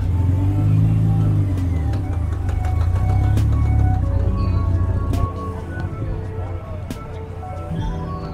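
Race cars rumble and rev nearby in the paddock at Lydden Hill, engines droning low and loud, easing down partway through, with scattered clicks and faint voices in the background.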